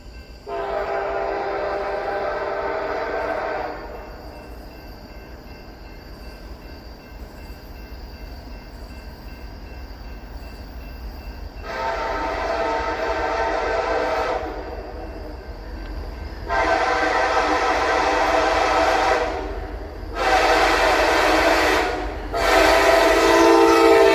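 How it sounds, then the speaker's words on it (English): An SD40-3 locomotive leading a manifest train sounds its horn in several long, loud blasts, the later ones closer and longer, over the steady rumble of the passing train with no talk. "It was pretty cool to see an SD40-3 lead a manifest train"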